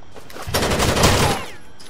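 Bursts of rapid gunfire crackle through a few loud seconds in the video game Rainbow Six Vegas 2, then fade back to quieter background.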